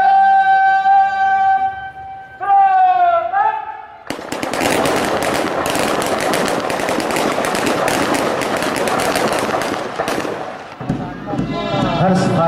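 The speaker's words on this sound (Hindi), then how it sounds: "हर्ष फायर हमारे परेड में शामिल है टुकड़ियों के द्वारा।" Celebratory rifle fire by parade contingents at a march-past ceremony, a dense rapid volley of loud cracking shots after a sustained brass-like tone, with crowd noise mixed in near the end.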